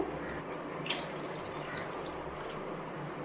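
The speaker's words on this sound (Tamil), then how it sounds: "கூடவே இந்த குழம்புக்கு தேவையான தண்ணி சேர்த்துக்குவோம்" Water pours steadily into a pot of Kerala-style kilangan fish curry with a soft, continuous splashing trickle, fairly quiet and unbroken, with no voices.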